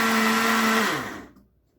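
A blender whirs loudly and steadily through charred vegetables for salsa verde, then winds down and stops after about a second, leaving silence.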